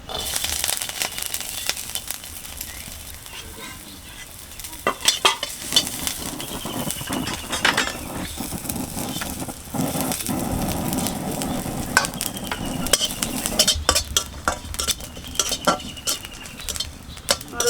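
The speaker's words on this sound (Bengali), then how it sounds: "রসুন আর জিরাগুলো ভেজে নেব" Garlic and cumin seeds frying in oil, a continuous sizzle broken by frequent clinks and scrapes of a utensil stirring against the pan, close and busy throughout.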